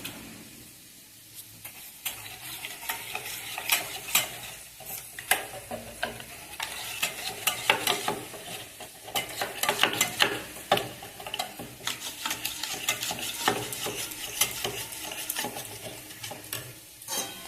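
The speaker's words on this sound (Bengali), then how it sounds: "আলুটা তো অল্প পরিমাণে দিয়েছি, ভাজা হয়ে গেছে" Potatoes frying in a pan with spices are stirred continuously, a near, busy mix of scraping clicks and soft sizzling crackle that keeps an uneven, steady rhythm throughout.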